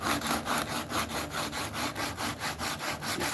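Sandpaper rubbed back and forth to shape a bevel on a wooden mallet, a steady rhythmic rasping stroke repeated about a dozen times, close and alone.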